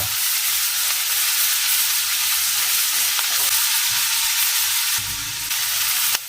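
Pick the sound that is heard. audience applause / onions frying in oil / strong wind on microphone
onions frying in oil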